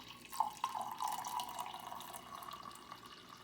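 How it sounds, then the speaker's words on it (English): Coffee poured from a pot into a cup, a steady liquid stream with a couple of splashy onsets near the start, close and moderately quiet. "pour your coffee in."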